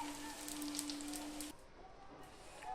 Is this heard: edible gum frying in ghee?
yes